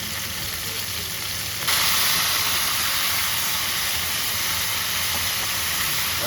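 Bitter gourd slices hit oil left over from frying eggplant, bursting into a loud, steady sizzle that jumps up partway through and holds as a dense hiss to the end, with no voices.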